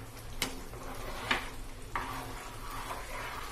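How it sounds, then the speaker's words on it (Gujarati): Khambhat-style halwasan mixture roasts in a pan with a soft continuous sizzle, broken by a few distinct scraping stir strokes, close and quiet with no talking. "હવે આ પાણી બળે ત્યાં સુધી આપણે હલાવતા જઈને શેકીશું"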